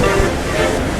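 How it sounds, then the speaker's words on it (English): Ocean breeze and surf on the beach along the Malecon in Mazatlan, Mexico, a loud, steady wash of wind and waves rushing against the microphone. "Oh, look at this ocean breeze."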